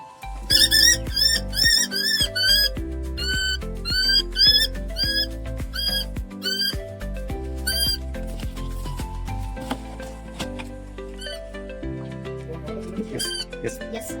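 Repeated high, chirping calls of a Common Hawk-Cuckoo come in quick bursts over a steady musical drone and low rhythmic tones, fairly loud and close.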